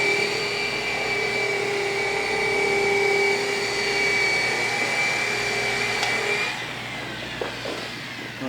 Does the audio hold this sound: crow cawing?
no